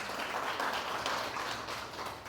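Audience applause at a town hall gathering, a soft, continuous patter of clapping from a modest crowd, heard at moderate distance.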